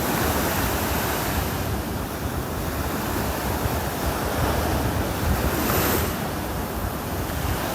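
Ocean surf rolls steadily onto a beach in North Naples, Florida on a Saturday morning, a loud continuous wash of waves mixed with gusting wind rumble on the microphone and no voices.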